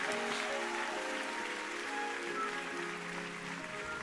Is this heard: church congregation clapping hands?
yes